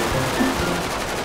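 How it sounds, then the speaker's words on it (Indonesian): Rapid gunfire in the video game GTA 5 during a bank robbery shootout, a continuous dense rattle of shots with no pauses, fairly loud and close. "Wah, ramai sekali juga tembakan."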